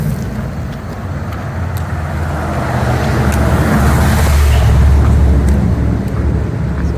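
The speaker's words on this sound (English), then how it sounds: "There comes a truck, a couple cars." Traffic on the Route 81 highway heard from underneath it, a broad, loud roadway rumble that swells as a truck and a couple of cars pass overhead, with no talk.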